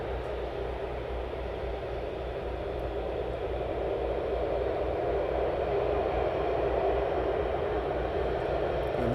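Swift Air aircraft taxiing at East Midlands Airport at night, a steady broadband engine roar with a low hum that builds slightly in loudness, continuous and fairly close, with no voices.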